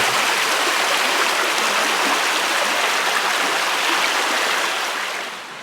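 A mountain creek rushes over mossy rocks along its bed, a loud, steady broadband wash of flowing water up close that eases off slightly at the very end.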